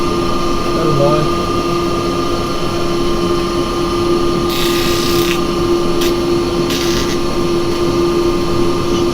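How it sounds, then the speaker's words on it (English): A woodturning piece being power sanded on a running lathe: a steady motor hum runs throughout, with two short bursts of brighter abrasive rasping partway through. "I'm letting you see this whole sanding process."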